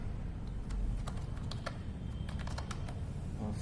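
Java code is typed on a computer keyboard in quick, uneven bursts of light clicking keystrokes with short pauses, close and quiet over a faint room hum.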